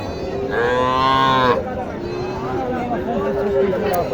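A cow lets out a single long, loud moo at a busy cattle market, the Chakgouri haat near Naogaon, over a steady hubbub of crowd chatter and nearby voices.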